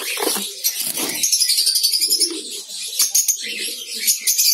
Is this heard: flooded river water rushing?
no